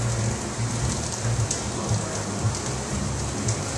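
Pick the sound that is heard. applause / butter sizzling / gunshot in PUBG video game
butter sizzling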